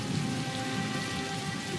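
Steady rain pours down in an even, dense hiss that holds without a break, close and continuous, with no voices or other sounds over it.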